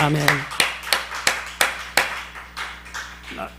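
A church congregation clapping in a loose, steady rhythm of about a dozen claps, fairly close, with a voice at the very start.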